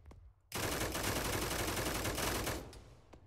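Sustained automatic gunfire aimed at the player in Arma 3, a dense loud burst lasting about two seconds that starts abruptly after a quiet moment and tails off with a few separate shots.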